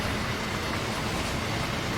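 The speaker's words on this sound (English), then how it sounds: "There goes the train." A train rushes past on the Kassel–Würzburg high-speed line in Train Sim World 3, a steady dense broadband roar of wheels and air holding loud and constant throughout, with no voices.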